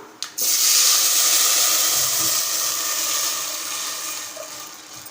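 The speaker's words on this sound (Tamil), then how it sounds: "ஒரு நாலரை டம்ளர் தண்ணி எடுத்து வச்சுருக்கோம் அதை உள்ளே சேர்த்துடலாம்" Water pours steadily into a cooking pot for several seconds with a broad, hissing splash that starts abruptly after a brief clink, then slowly eases.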